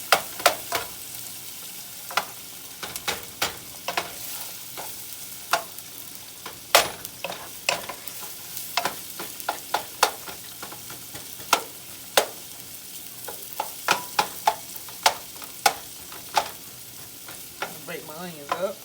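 Onions sautéing in a pan while being broken up for a steak and gravy dinner, a soft steady sizzle punctuated by frequent sharp spatula scrapes and taps, close by and without talking.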